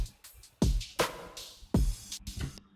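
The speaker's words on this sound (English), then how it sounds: "And then with the reverb, it sounds like this." A drum track in an Ableton mix with a short plate reverb on it: a few heavy kick and snare hits with slightly longer, brighter tails, in a steady beat and with no voices.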